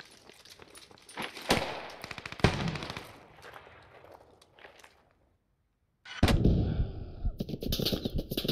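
Tank cannon fire in the World War II shooter game Post Scriptum, heard as loud, sharp blasts with ringing tails, mixed with nearby gunfire and some distant rattling shots.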